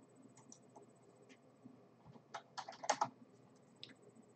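Typing a value on a computer keyboard while setting an EQ in Ableton, a few soft scattered key taps building to a quick close cluster of clicks, quiet overall, no talk.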